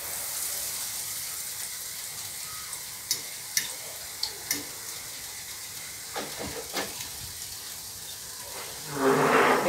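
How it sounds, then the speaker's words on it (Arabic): Potato maakouda frying in hot oil makes a continuous close sizzle with a few light taps and clicks scattered through it, and a louder crackling burst at the end. "غادي نحطها في الزيت"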